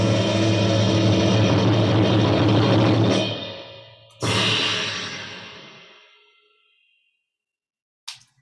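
A layered orchestral percussion hit of timpani, bass drum, snare, gong and crash cymbals swells loud and sustained, cuts off, then strikes again with a long shimmering decay into silence and one faint final hit.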